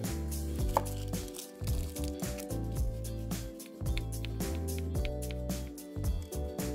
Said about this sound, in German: So, ich schneide mir hier die Schalotten.